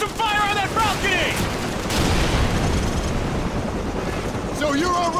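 Dense game gunfire and explosions from Call of Duty 4: Modern Warfare roar continuously and loudly in a battle, and shouted voices cut through the din.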